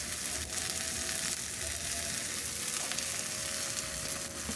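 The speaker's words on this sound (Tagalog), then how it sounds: "itabi muna natin sa kawali at igisa ko na yung luya" Ginger sautés in a hot wok, a dense, even sizzle that stays loud and constant with faint stirring taps and no talking.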